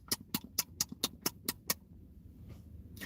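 About eight sharp, wet clicking smacks in an even rhythm, close and crisp, like someone imitating noisy chewing, then near silence.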